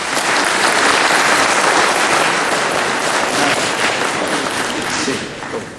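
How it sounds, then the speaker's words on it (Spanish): Loud, dense audience applause welcoming a law lecturer to a conference hall, sustained and even for several seconds before tapering slightly at the end. "Lo recibimos con un fuerte voto de aplauso."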